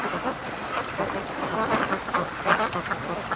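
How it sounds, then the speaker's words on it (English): Ducks quack in a busy, overlapping chorus on a farm pond where otters hunt, steady nasal calls near and far with a low outdoor rumble beneath. "Poor ducks."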